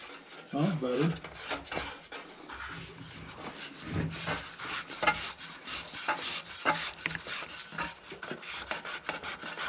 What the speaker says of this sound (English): see if this will thread up on there a little bit farther.